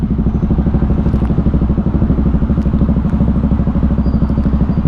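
A CF Moto 300cc motorcycle fitted with a changed exhaust idles close by, giving a loud, steady, rapid throbbing beat with a rough, crackly edge that carries on without a break.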